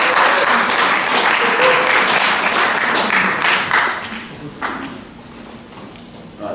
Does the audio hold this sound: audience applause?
yes